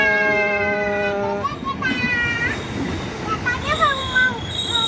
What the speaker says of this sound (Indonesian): Ayo cepetan keretanya datang.